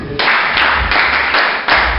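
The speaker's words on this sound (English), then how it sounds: "Clap for him." A classroom of pupils claps together for a classmate, a dense, loud wash of hand claps that swells in repeated rhythmic surges, nearby and without talk.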